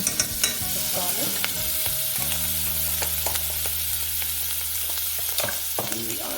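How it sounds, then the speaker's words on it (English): Crushed garlic sautés in a hot pan with a steady close sizzle, punctuated by sharp clicks and scrapes of stirring and a low humming drone in the background. "And we are going to saute that."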